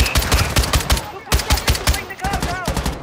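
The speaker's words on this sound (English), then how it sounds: "Robo 6-2's taking small arms fire." Rapid bursts of small arms gunfire in Call of Duty DMZ, automatic weapons rattling in quick volleys, loud and close, with brief gaps and a voice talking through it.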